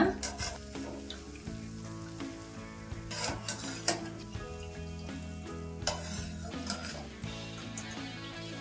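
Coconut biscuits frying in a pan of hot oil, a continuous bubbling sizzle broken by scraping and clinking of a utensil against the pan as pieces are turned, with a voice talking over it.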